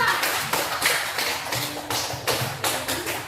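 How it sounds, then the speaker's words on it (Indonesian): A class claps for a student group, a patter of hand claps with rhythmic swells, close and moderately loud with no talk over it. "Jadi, tepuk tangan untuk kelompok"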